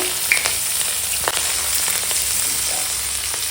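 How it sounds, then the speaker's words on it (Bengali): Green chilies and whole cumin seeds sizzling hard in leftover fish-frying oil in a pan, a loud, steady crackle with a few sharp pops and the scrape of a spatula. "ওই মাছ ভাজার তেলেই এখন দিয়ে দিলাম কাঁচা লঙ্কা দিয়ে দিলাম গোটা জিরে"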